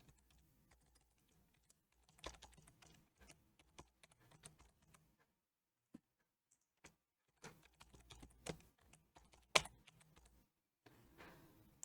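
A new password is typed on a computer keyboard as scattered, faint key clicks and short bursts of taps with silent gaps between, close and quiet with no talking.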